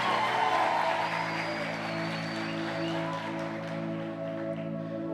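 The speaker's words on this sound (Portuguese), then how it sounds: "Dá uma salva de palmas a esse grupo de música abençoado." A church congregation claps for a worship music group, a steady wash of applause heard beneath a sustained organ-like chord that hums low throughout.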